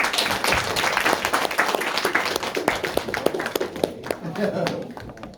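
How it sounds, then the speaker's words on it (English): An audience applauds to welcome a speaker at a talk on succeeding in a corporate environment, a thick wash of clapping with some sharp, closer individual claps standing out, thinning slightly near the end. "Everybody, please give a huge round of applause"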